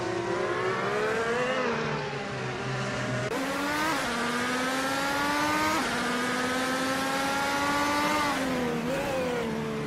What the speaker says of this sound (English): Nonstop is in a Chevrolet IndyCar, starting in 10th place